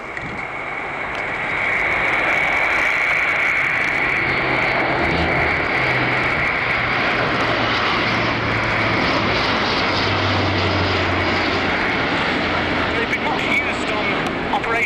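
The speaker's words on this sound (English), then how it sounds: "Eventually up to 108 paratroops will be able to drop from the Atlas, which we see coming in here with undercarriage down." Airbus A400M Atlas military transport aircraft making an approach with undercarriage down at the RIAT 2018 airshow, its turboprop engines producing a loud, steady roar that swells after the first two seconds and holds throughout, with faint crowd voices beneath.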